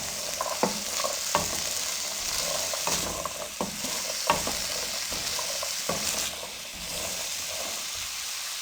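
Ingredients for fried chana chaat sizzling in a pan, a continuous hissing fry close by, broken by repeated stirring scrapes and knocks of a spoon against the pan.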